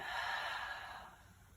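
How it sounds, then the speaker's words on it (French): A single slow breath out during a Pilates exercise, a soft airy exhale that gradually fades, heard alone and close. "On expire."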